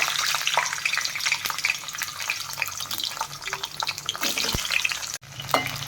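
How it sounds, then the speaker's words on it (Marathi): Ivy gourd frying in oil in a pan, a continuous close sizzle with intermittent crackles and a few sharp clicks of utensils. "त्यानंतर आपण तोंडली टाकूया"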